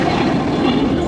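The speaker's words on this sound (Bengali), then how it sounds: "এই যে ট্রেন যাচ্ছে" A train rumbles steadily and loudly past at close range over an unguarded level crossing in Comilla, Bangladesh, with a continuous rolling rail roar.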